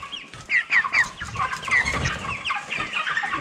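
A 30-day-old Cobb-500 broiler chicken clucks and squawks up close while being handled, giving a quick run of sharp, agitated calls over faint background rustling.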